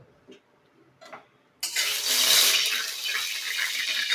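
Four to five spoons of mustard oil poured into a hot kadai on a gas stove, a steady loud rushing hiss that starts abruptly after a couple of faint taps and continues, close, with no talk.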